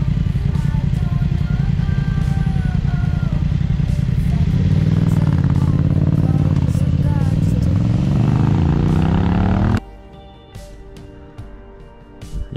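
Several motorcycles pull away from a stop, engines revving up loudly and rising in pitch together as they ride off, under a voice talking, then the sound cuts to a quieter distant background.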